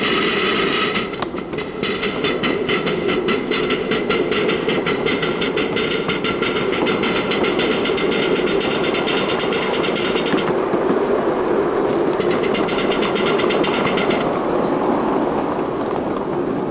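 An engine runs steadily and loudly under load as the vehicle climbs a grade, a constant mechanical drone with a rapid clatter layered on top.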